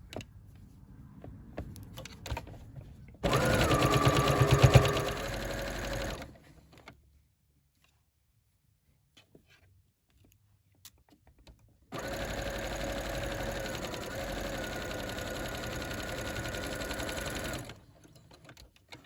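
A sewing machine stitches the side seam of a Simplicity 8797 coat in two steady runs of several seconds each, separated by a quiet pause, the motor whirring loud and close.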